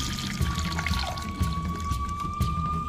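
Soaked pearl millet and its water poured together into a pot for traditional millet porridge, a continuous close watery pour and splash with a steady faint hum underneath.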